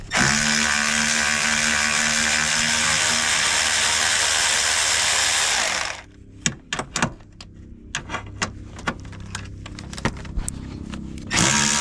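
Work on a 10mm bolt on a 2002 Jaguar S-Type starts with about six seconds of loud, continuous mechanical whirring. It then drops to close, scattered metallic ratchet clicks and taps.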